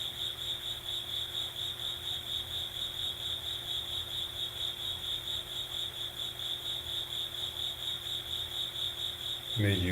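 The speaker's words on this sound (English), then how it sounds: "And gently imagine the cricket that is making this music for us." Cricket chirping in a steady, continuous high trill across the whole stretch, fairly close and even, with no talking over it and a brief low thump near the end.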